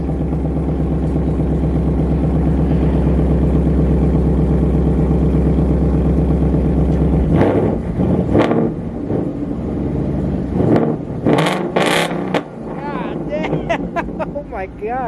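A Ford Mustang at a Mustang-only car show holds a loud, steady engine drone during a burnout, then breaks into sharp revving bursts and shifting pitch sweeps, close by, with people talking and cheering over it.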